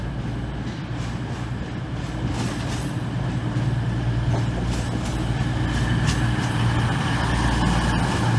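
An East Midlands Railway train on the Nottingham to London St Pancras line gives a steady, loud rumble with low drone and rattling wheel noise, continuous throughout with no talk.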